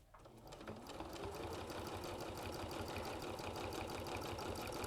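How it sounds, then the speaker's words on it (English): A sewing machine runs steadily while stitching a line down a kimono, its fast needle rattle whirring continuously, close and moderately quiet. "And this is going to be my second line of stitching."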